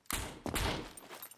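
Gunfire in the video game SCUM: two loud, close bursts of shots about half a second apart, each dying away quickly.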